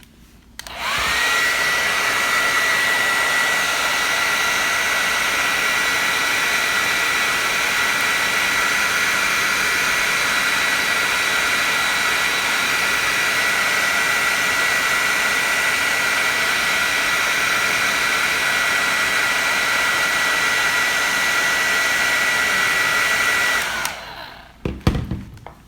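A heat gun blows steadily and loudly for about twenty seconds while heating an action figure, a continuous hissing roar that switches on and then cuts off near the end.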